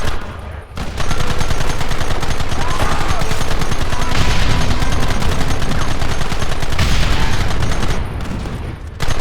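Heavy gunfire in a Red Dead Redemption battle: a dense, unbroken fusillade of overlapping shots rattles on loud and close for about eight seconds, then thins out briefly at the end.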